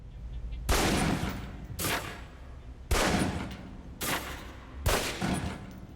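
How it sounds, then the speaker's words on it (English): Pistol shots ring out at a firing range target in the Alpha Protocol video game: five loud, evenly spaced reports about a second apart, each with a lingering reverberant tail, and no voices. "Then aim down range and take some shots at the target."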